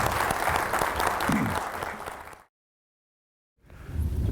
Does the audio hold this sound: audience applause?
yes